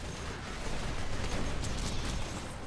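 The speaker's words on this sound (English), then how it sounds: "Oh god, blood explosion." A blood explosion in the video game Borderlands 2 comes as a rough, crackling burst of noise that swells for a couple of seconds and then holds at a loud level, with no talking.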